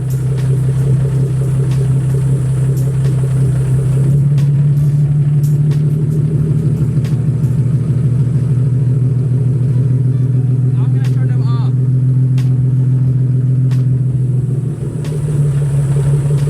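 A Nissan 370Z idling close by with a steady low engine drone, the tone shifting partway through as the air conditioning is switched off and back on; a voice talks over it.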